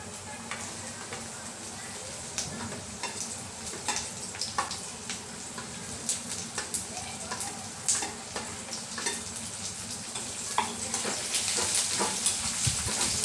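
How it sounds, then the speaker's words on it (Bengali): Green chilli and capsicum sizzle in a pan with fried onion and garlic, a steady crackling fry broken by repeated scraping stirs of a spatula, close and fairly loud, growing busier toward the end. "এবার কাঁচা লঙ্কা আর ক্যাপসিকাম দিয়ে দিচ্ছি।"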